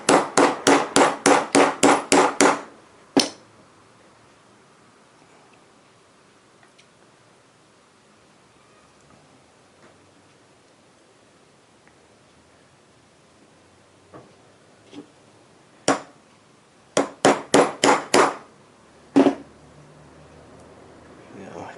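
Rapid sharp taps seat a rubber gasket into the angle drive housing of a 1968 MGC transmission, using a close-fitting tool: a fast burst of about ten hits, a quiet pause, then single knocks and a second burst.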